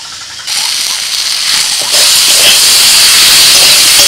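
Ginger-garlic paste dropped into frying vegetables sets off a loud, close sizzle that swells sharply after a moment and then holds as a dense, hissing roar, with no one talking.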